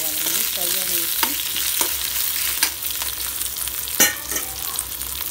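Curry leaves and green chilies frying in a pan for an ivy gourd chutney: a steady close sizzle broken by a handful of sharp spatula taps and scrapes.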